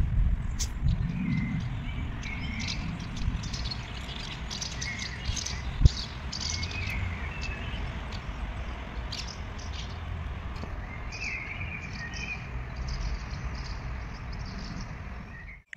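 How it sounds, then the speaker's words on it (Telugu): Birds chirp and tweet outside a student dormitory in Germany, with repeated high calls near and far over a low steady outdoor rumble and a faint insect-like buzz. "రోజు ఇట్లా పిట్టలు అరుస్తూ ఉంటాయి"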